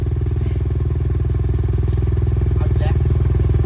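A 2016 Yamaha TMax 530 motor scooter runs loud and close with a steady throbbing engine note, and a voice cuts in briefly over it.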